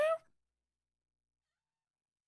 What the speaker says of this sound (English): The cat made a noise.